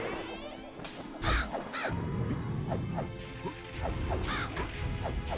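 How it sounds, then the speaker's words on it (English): Crows caw repeatedly in MediEvil, harsh calls spaced through the scene over a dense game background, with a heavy crash-like thud near the start. "No more crows, please."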